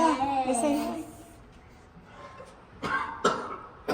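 A person coughs several times in short bursts, close and fairly loud, with a voice and chatter early on and quiet gaps between the later coughs.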